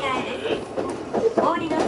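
Steady rumble of a Japanese commuter train running on rails near Shinjuku, with a rhythmic clatter and occasional higher squeaks throughout, under a busy carriage interior.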